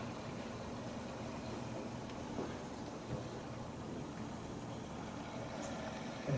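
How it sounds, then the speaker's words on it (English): Rushing water flow noise through residential heating pipes driven by a Wilo Stratos circulator pump, a steady broadband hiss and rumble that holds evenly throughout with no voices. "Our velocity went up considerably through the piping, so we're getting a lot of noise."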